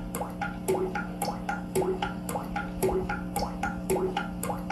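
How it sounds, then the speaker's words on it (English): Water drips steadily in a repeating rhythm, each drop a clear close plink over a constant low hum, falling in an even beat for several seconds. "I'm talking about the musical beats of that dripping water."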